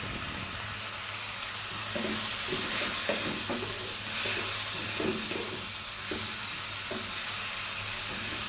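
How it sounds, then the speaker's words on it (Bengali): Chili, turmeric and coriander powders fry together in a pan for fish curry, a soft continuous sizzle broken by light scraping stir strokes, with no voices. "এবার আমি সবগুলো উপকরণ একসাথে কিছুক্ষণ কষিয়ে নেব।"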